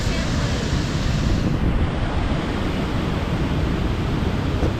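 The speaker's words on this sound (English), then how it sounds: "Having lunch next to this beautiful waterfall" A waterfall near Lake George in Bicentennial State Park, New York, pours in a dense, unbroken hiss and rumble, close and loud, holding steady with no pauses.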